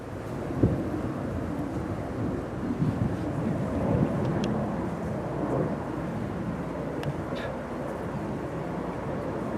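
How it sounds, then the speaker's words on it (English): Boeing 787 Dreamliner airliner passing at Chicago O'Hare, a broad, loud jet roar that swells and rumbles steadily for several seconds, with wind buffeting on the microphone. "Dreamliner!"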